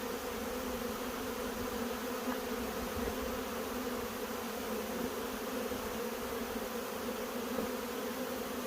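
A honey bee swarm drones steadily and densely close by, a continuous loud buzzing hum that stays even throughout with no voices.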